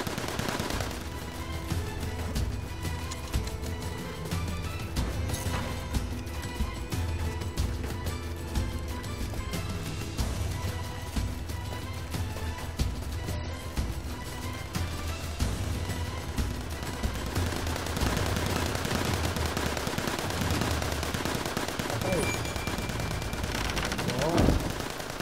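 Dense, continuous gunfire from guards in the video game Assassin's Creed Chronicles India runs unbroken under loud game music and effects, with rapid overlapping shots throughout.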